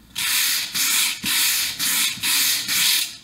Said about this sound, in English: The heavier you base coat, the harder it'll be to get the paint off with the sandpaper.